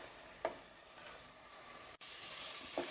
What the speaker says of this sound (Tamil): இது எல்லாத்தையும் நல்லா மிக்ஸ் பண்ணி விட்டுட்டு நல்லா வதங்க விட்டுருங்க.